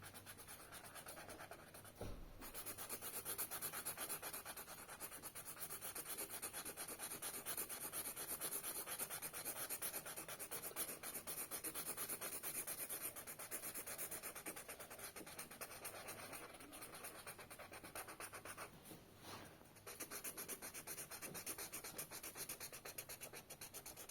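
A grey pencil shades in a drawing of two skeleton girls, giving a steady, continuous scratchy rubbing of graphite on paper, close and quiet, with one brief pause near the end.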